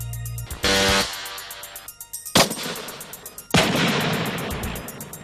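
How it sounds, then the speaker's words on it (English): Metal Storm electronic, non-mechanical gun firing at an extremely high rate, heard as a few loud, sudden blasts that each trail into a rumbling roar, with no talk over them. "This revolutionary technology offers electronic variable rates of fire to more than 1 million rounds per minute."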